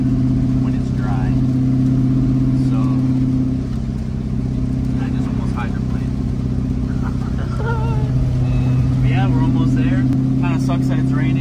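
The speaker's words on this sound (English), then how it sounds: "Might drift around a little bit, just kind of feel out the car a little bit." A Ford Mustang's engine drones steadily and loud from inside the car while it drifts on a rain-soaked road, with the engine note rising and falling slightly under someone talking throughout.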